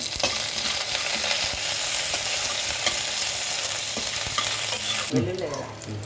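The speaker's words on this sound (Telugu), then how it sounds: "వేసి కొంచెం వేయించుకోవాలి" Urad dal and chana dal fry loudly in hot oil in a pan for tamarind pickle rice, with a steady close sizzle and occasional stirring scrapes, then a brief change in texture near the end.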